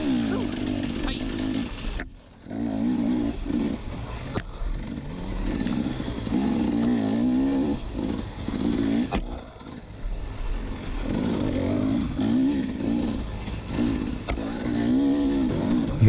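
Dirt bike engine revving hard behind the rider during an enduro race at Sumter, a loud, buzzing, wavering whine that surges and dips repeatedly with a brief drop in between.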